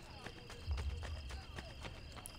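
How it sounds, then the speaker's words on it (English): Horse hooves clip-clop in a steady trotting rhythm in the video game Assassin's Creed Brotherhood, quiet and somewhat distant over a low game ambience, with a voice speaking in the background. "he jumped off the horse, and the horse has blocked me"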